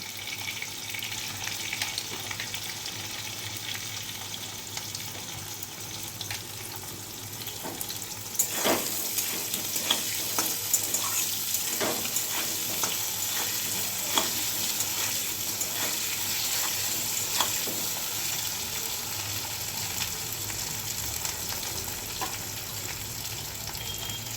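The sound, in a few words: frying potatoes with salt and turmeric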